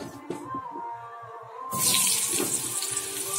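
Water pouring and splashing into a sink as boiled pui greens are drained, a faint trickle that turns into a louder, steady gush partway through.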